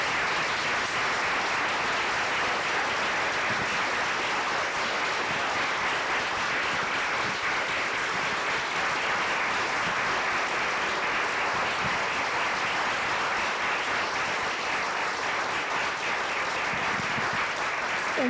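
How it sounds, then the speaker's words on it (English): An audience applauds artist Gisela McDaniel at a museum talk, dense steady clapping filling the room without a break for the whole stretch. "maybe a round of applause for Gisela"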